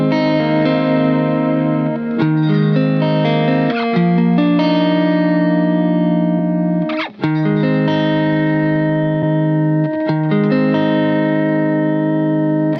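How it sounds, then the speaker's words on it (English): Electric guitar played through a Strymon pitch vibrato effect, sustained wavering chords with a warbling pitch, struck anew every couple of seconds with a brief drop in between. "It's called the pitch vibrato."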